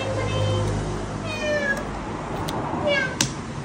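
A pet cat meows several times in a row, each meow a rising and falling cry, close and clear over low room noise with a soft knock near the end.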